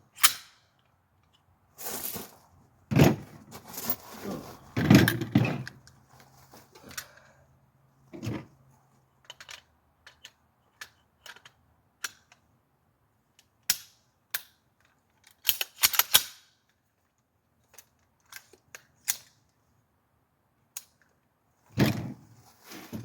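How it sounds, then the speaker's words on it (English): Several sharp gunshots from a short-barreled 7.5-inch AR rifle chambered in 5.56 with a different muzzle device, fired outdoors at about 100 yards, come as isolated loud cracks and short clusters separated by quiet gaps. "Let's shoot that other one over there. See if that other muzzle device makes a difference."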